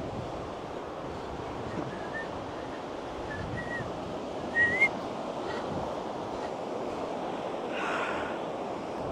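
Quiet off-season beach in Gambia with soft, continuous surf washing in and steady wind noise, plus a few faint high whistle-like tones and no talk.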